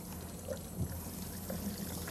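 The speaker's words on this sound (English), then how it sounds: "Now I'm going to wash my hands again." Tap water runs and splashes quietly during handwashing in a home kitchen, a soft, steady trickle with a few brief splashes, with no talking.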